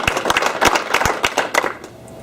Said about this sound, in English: let's give Alicia Duquette from Saranac a round of applause